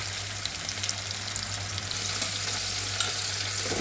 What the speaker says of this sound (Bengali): হাফ টমেটো আর পেঁয়াজ কুচি দিয়ে দিলাম। পেঁয়াজটা লাল হোক হালকা করে।